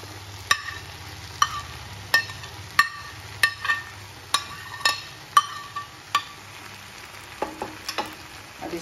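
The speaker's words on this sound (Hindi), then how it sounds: "अब इसके बाद देखिए ये जो वेजिटेबल्स थी हम इसमें ये डाल देते हैं" Vegetables are stir-fried into masala in a pan, giving a low steady sizzle under a regular series of sharp metallic clinks as a spatula strikes and scrapes the pan, with no talking.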